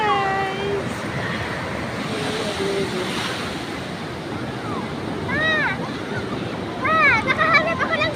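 Sea surf at a beach in Bauang, La Union, washing in steadily with wind buffeting the microphone, while people chat and call out nearby over the rolling waves.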